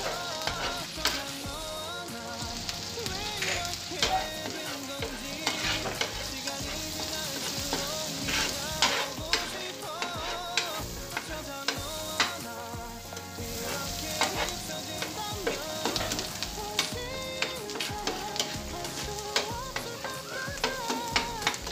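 Garlic sautés in a pan for egg-noodle carbonara, a dense crackling sizzle that runs the whole time, with frequent spatula scrapes and pops close at hand and no talking.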